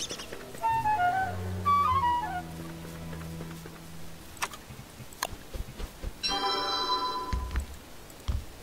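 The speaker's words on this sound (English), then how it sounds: "my phone's ringing" A phone ringtone plays a bright descending melodic phrase, then a dense shimmering burst of chiming tones a few seconds later, over soft background clicks.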